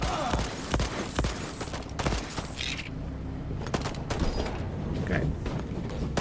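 Gunfire in the Voidtrain video game, a dense fusillade of rapid shots and mechanical clatter running throughout at steady loudness.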